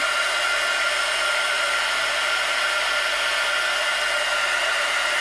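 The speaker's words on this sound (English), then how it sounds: "Makes a lot of noise. I just love this heat embossing." A loud, steady rush of blowing hot air from a heat embossing tool, continuous and close, with no other sounds.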